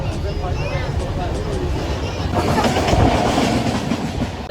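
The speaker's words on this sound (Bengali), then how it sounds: "ট্রেনটা ধীরে ধীরে খড়গপুর স্টেশন ছেড়ে তার গতি ধরতে লাগলো" The Dhauli Express rolls out of Kharagpur station, its wheels clattering in a steady rhythm that gets louder and rougher as it gains speed, heard from inside the coach with passengers' voices murmuring beneath.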